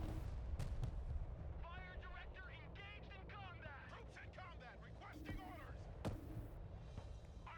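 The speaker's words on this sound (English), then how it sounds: "taking artillery fire" Artillery booms repeatedly in the Broken Arrow war game during an airfield raid, with thuds and blasts scattered over a rumbling battlefield bed. Game radio chatter and a person talking run over the top.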